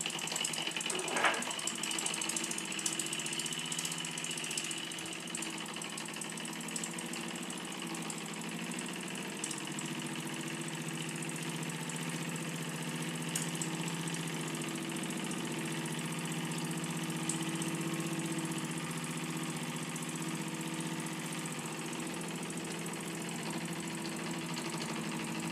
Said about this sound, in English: At last, the engine is running under its own steam.